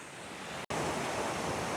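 Heavy water flow of an Oregon waterfall fanning over rock, a steady broadband rush heard close and loud with no voices, broken only by a momentary dropout.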